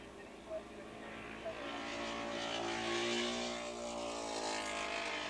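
Ducati twin racing motorcycle at Willow Springs International in a 1986 Battle of the Twins race, a steady engine drone with shifting pitch under continuous announcer commentary.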